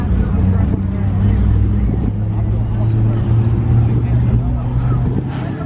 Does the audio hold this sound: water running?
no